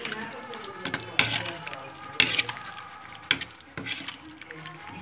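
Potato curry with Kashmiri red chili being stirred in a pan, a soft scraping and sizzling texture with a few sharper utensil knocks against the pan, close and moderately loud.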